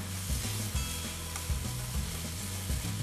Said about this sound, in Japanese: 麺に焦げ目をつけるような気持ちでカリッと焼いていきたいと思いま す